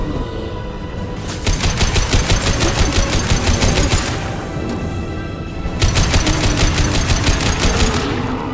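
Two long sustained bursts of rapid automatic weapon fire from a Mass Effect 2 firefight, loud and close, separated by a brief pause.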